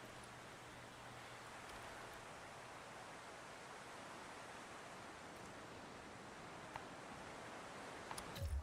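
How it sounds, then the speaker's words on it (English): Steady, even rain in the video game Jurassic World Evolution 3, a constant broadband hiss with no talk and only a couple of faint ticks near the end. "it is raining"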